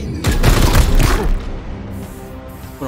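A loud burst of gunfire in Warhammer 40,000: Chaos Gate - Daemonhunters with a booming blast, followed by a fading rumble and reverberating tail.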